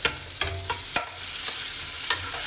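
Garlic, dried shrimp and sliced beancurd stir-fry in a pan, a steady sizzle punctuated by five or six sharp spatula scrapes and knocks against the metal.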